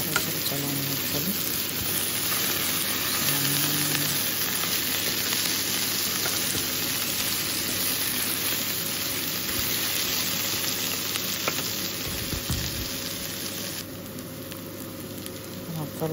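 Bitter gourd curry with ginger-garlic paste sizzles and fries steadily in a pan, a continuous close crackle with occasional stirring scrapes.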